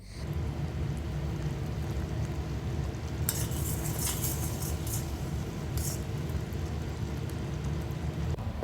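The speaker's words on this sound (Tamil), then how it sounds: "வேர்க்கடலையை வறுக்க ஆரம்பிச்சிட்டேன்" Peanuts being dry-roasted in a pan and stirred, a soft, steady rustling rattle under a low background hum, with a burst of clinking metallic scrapes midway, fairly faint and close, no talk.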